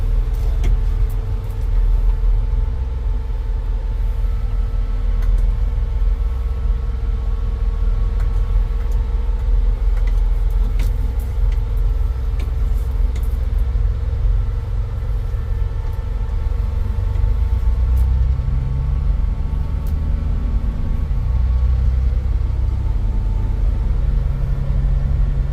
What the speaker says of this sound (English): What I'm doing is I'm just driving down our road